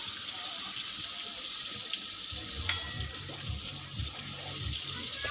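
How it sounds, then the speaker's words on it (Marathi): Tap water runs steadily into a mixer grinder jar nearby, with low knocking and sloshing as the jar is rinsed under the stream. "नंतर मी याला मिक्सर धुवून पाणी टाकेन"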